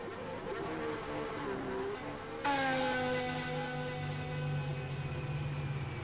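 A race car in preseason testing at Bahrain, its engine note drifting down steadily as it slows into the pit lane, a smooth moderately distant whine with a brief higher buzz near the start and no voices.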